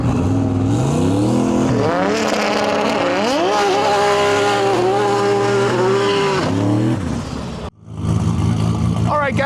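A drag racing car revs hard at the line, then roars through a rising, gear-stepped acceleration run, loud and close, before the engine cuts out and a crowd and announcer return.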